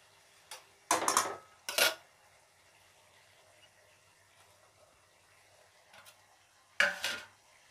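Pieces of fried boal fish set one by one into a cooking pan, giving a few separate clattering bursts with faint sizzle between them, close and without talk.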